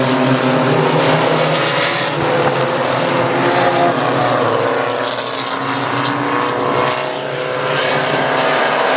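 Stock race cars roar around the Central Texas Speedway oval, a dense continuous engine drone swelling and fading slightly as the pack passes, heard without talk.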